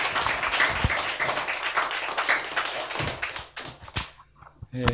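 An audience in a small hall gives a dense round of hand clapping to welcome a speaker, loud and close at first, then thinning to scattered claps before one final burst.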